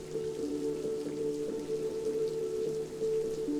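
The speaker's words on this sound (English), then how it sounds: "And then just some rain ambience field recordings." A rain ambience field recording: steady, dense rainfall patter fills the scene without pause, layered over a sustained low tonal drone.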